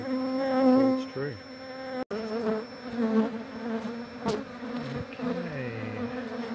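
Honey bees swarm around an opened hive during a relocation from a chimney, making a loud, close, continuous buzz with individual insects whining past and shifting in pitch.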